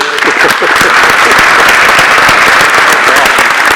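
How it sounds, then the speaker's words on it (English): Sustained, loud applause from a large crowd at the 2019 Skagit Valley College Parks Law Enforcement Academy graduation ceremony, dense steady clapping filling the whole stretch with a voice faintly mixed in. "And I think our Chillers deserves another round of applause for the..."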